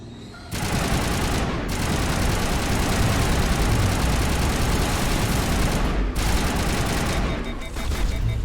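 Sustained bursts of automatic gunfire in the video game Renegade, a dense, loud crackle of overlapping shots that runs almost without a break after a brief quieter opening, with an engine-like low rumble underneath.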